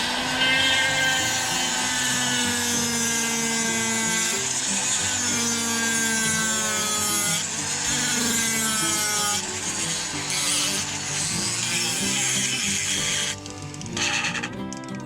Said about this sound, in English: I'm using my cut saw extra coarse ball nose to rough this out